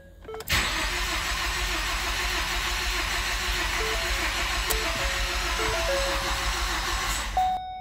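A Ford Focus (2012–2018 SE/ST) engine cranks steadily for several seconds after fuel injector replacement, a loud continuous starter whir that never catches, with no talking.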